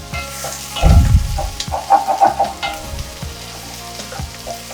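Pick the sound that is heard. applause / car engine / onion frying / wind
onion frying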